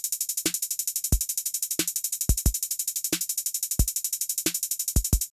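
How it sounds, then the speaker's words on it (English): Drum machine beat built on a continuous run of fast 32nd-note hi-hats ticking under steady kick and snare hits, a dense, even machine-gun rhythm across one bar with no talk. "We could then go in and program our 30-second note hi-hat pattern."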